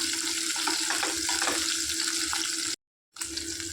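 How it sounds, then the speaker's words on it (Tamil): Onions sauté with green chilli and curry leaves for a mutton gravy, giving a steady, moderate frying hiss with faint stirring, broken by a short silent gap before the sizzle resumes. "வெங்காயம் நல்லா ப்ரௌன் ஆகணும் அந்தளவுக்கு நல்லா வதக்கி விட்டுக்கலாம்"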